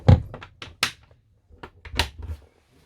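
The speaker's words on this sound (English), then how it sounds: "here we have the pull-out pantry" A pull-out pantry in a Carthago Chic C-Line motorhome slides open with a series of knocks, thunks and rattles, several sharp impacts clustered near the start and again toward the end, close and fairly loud.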